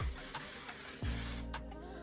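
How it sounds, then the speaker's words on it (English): Makeup setting spray hisses out in short bursts, close and fairly quiet, with a few soft spritzes spaced apart in an otherwise calm room. "then I want to spray evenly like this"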